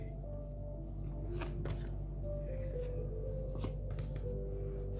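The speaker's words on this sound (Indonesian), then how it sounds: "Saya akan ambil 8 kartu seperti biasa ya." Tarot cards are shuffled by hand in close, quiet riffles and soft flicks, forming several short bursts against a low background hum.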